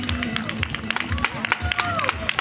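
Applause and scattered clapping from a crowd as runner Meelis Adanen reaches the finish of a race, steady and moderately loud, with a commentator talking over it.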